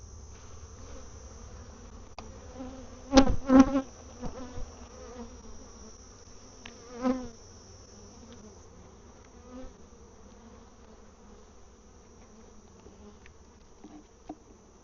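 Honeybees buzz around an open hive during mite-washing work, a steady low drone of many wings with a few louder bees passing close, plus occasional soft knocks and handling sounds.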